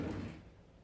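A handmade wooden kitchen drawer for knives slides shut, a brief, soft rolling rumble that quickly dies away, heard alone.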